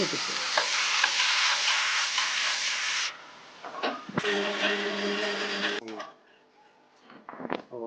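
Goat head mutton is tossed into softened tomatoes in a hot pan, sending up a loud, close sizzle with stirring. It pauses while people talk, then resumes more faintly.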